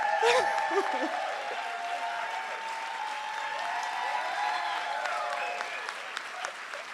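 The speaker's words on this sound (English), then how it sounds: "Please, please, please give a round of applause to Bertha Lewis" A crowd at a Working Families Party statewide gathering applauds for Bertha Lewis, with steady, thick clapping throughout, mixed with some sustained vocal tones and cheers.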